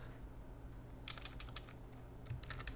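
Computer keyboard typing while laying out an app design in Figma: two quiet bursts of rapid key clicks, from about one second and again near the end, over a steady low hum, with no talking.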